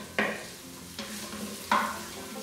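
Onion sautéing in a TESLA EliteCook K70 electric pressure cooker: a soft steady sizzle with three sharp scraping stirs, two of them louder, close and without voices.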